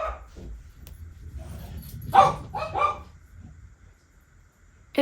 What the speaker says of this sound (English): my dogs are going to become just a part of my content, because they just love to bark randomly at anything that is moving outside